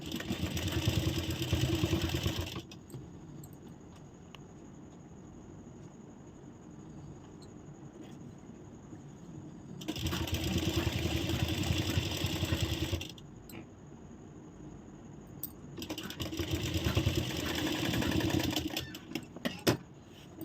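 Sewing machine stitching the front of a blouse, running in three steady bursts of rapid mechanical clatter separated by quiet pauses, close and alone.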